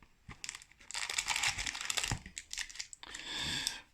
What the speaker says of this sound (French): Aujourd'hui, je vais vous ouvrir ces boosters.